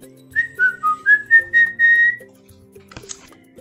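Close, clear human whistling gives a short rising and falling melody of about seven distinct notes, ending in a held tone. Quiet follows, then a brief thump near the end.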